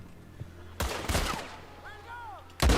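Sharp sniper rifle gunshots in Red Dead Redemption 2, with one loud crack near the start, a second shot echoing at the end, and a faint whistle-like tone in between.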